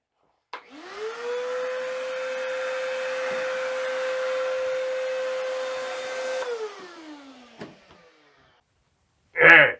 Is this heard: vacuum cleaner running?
yes